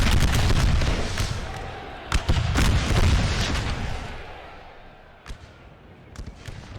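Musket volleys crackle through a Napoleon: Total War American Civil War mod battle at Gettysburg, with a dense rolling burst early, sharp separate cracks near two and five seconds, and scattered shots at the end over a low rumble.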